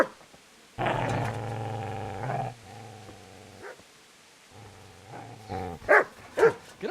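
Dog growls come in two long, deep, close bursts, then turn into sharper barks and whimpering yelps, set in the medieval video game Kingdom Come: Deliverance.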